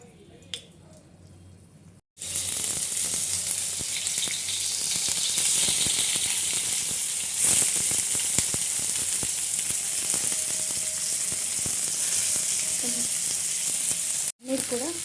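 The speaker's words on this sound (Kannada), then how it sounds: "ಇದೇ ಹಂಚಿಗೆ ಇನ್ನೊಂದು ಸ್ವಲ್ಪ ತುಪ್ಪ ಹಾಕ್ಬಿಟ್ಟು ಪನ್ನೀರನ್ನ ಫ್ರೈ ಮಾಡ್ಕೊಳ್ಳೋಣ" Paneer frying in ghee in a pan starts with a sudden loud burst of sizzling after a quiet opening, then holds a strong continuous hiss with occasional spatula scrapes before briefly cutting out near the end.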